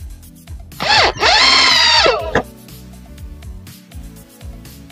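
A power drill in drill mode drives a black pocket hole screw into wood, giving two close, loud whirring bursts of about a second each that rise in pitch, then a quieter workshop background.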